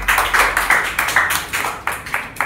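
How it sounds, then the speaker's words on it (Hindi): Classroom applause for two students, a small group clapping in quick uneven bursts, close and crisp, with short pauses between rounds. "ताली तो बता दें दोनों के लिए"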